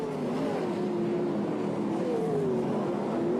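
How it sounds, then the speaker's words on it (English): Sprint cars race around a speedway track at a feature event, a steady, loud engine drone with a rising and falling pitch running throughout, with no pauses. "Jones has stamped his authority on this race as he comes up to Phil Locke to put him a lap down."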